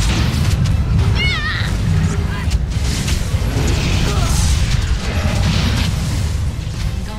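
A shock bomb goes off in the fantasy role-playing game Dragon Age: Awakening, with loud booming bursts and crackling impacts amid busy combat effects and clanking, dense and sustained throughout.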